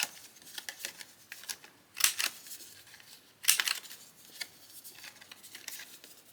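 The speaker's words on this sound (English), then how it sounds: "I use my little corner rounder here to round these journaling cards." A small corner rounder punches through paper journaling cards, giving crisp close clicks, two of them louder, among lighter paper handling and shuffling, quiet, no talk.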